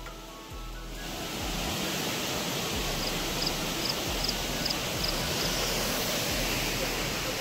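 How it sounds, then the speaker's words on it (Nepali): Lauke Jharna, a large waterfall in Nuwakot, sends out a steady, dense roar of falling water that fills the whole stretch without a break. "ओए इट्स नट अ सानो झरना इट्स अ बिग झरना"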